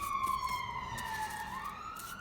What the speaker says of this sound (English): I'm sorry about the sirens